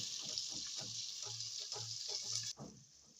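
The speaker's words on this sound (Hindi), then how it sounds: "अब हम इसमें 2 खाने के चम्मच जो है लहसुन अदरक का पेस्ट शामिल करेंगे और इसको हम थोड़ी देर भूनेंगे तकरीबन 1 मिनट" Garlic ginger paste fries with golden onions in a pan for a prawn masala, a steady close hiss and sizzle with faint stirring scrapes underneath.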